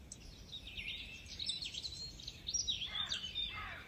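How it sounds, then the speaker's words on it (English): Birdsong on an early spring morning, faint chirps and twittering calls layered over quiet background hiss, several birds calling in short bursts at a distance. "you wake up in the morning and you hear the birds"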